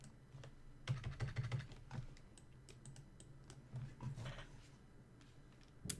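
Fingers type on a small wireless computer keyboard, with quick bursts of soft, close keystroke clicks separated by pauses, faint and with no voices.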